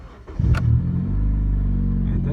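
A 2010 Honda Civic engine cranks briefly with a starter whir, catches, and settles into a steady, close idle.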